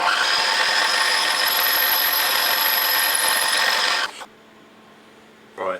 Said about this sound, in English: I can now drill the other hole this side.